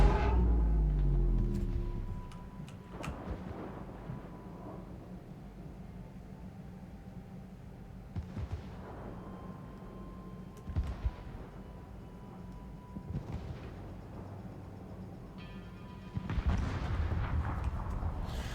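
Heavy tank cannon shots boom in a competitive match of an online tank battle game, several deep blasts spaced a few seconds apart over a low engine rumble, each with a sharp crack and rolling tail, with no one talking.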